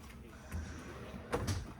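A large drawer in a hotel room at the Hard Rock Hotel & Casino in Tampa, Florida slides open with a faint, brief wooden scrape and soft knock in a quiet room.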